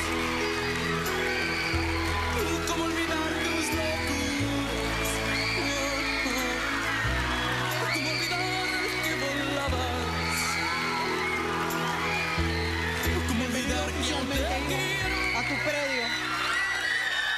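A television talk-show studio audience cheers, whoops and applauds for arriving telenovela stars, a loud, sustained crowd roar layered with music that runs unbroken throughout.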